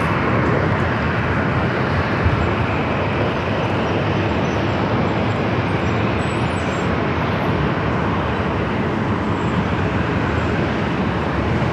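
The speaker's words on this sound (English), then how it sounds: "This flight heading to Raleigh-Durham, flight 462, is 737-800." A Boeing 737-800 airliner at Los Angeles International Airport gives a loud, steady jet roar that holds broad and even throughout, with no voices over it.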